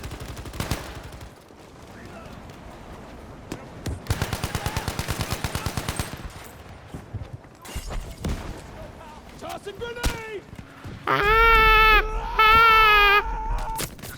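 Rapid bursts of gunfire and booming blasts crowd together, loud and chaotic, with electronic tones and effects rising near the end.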